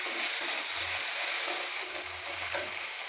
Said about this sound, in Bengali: তারপর আমি পেঁয়াজটাকে একটু হালকা করে ভেজে নেব বাটাটাকে।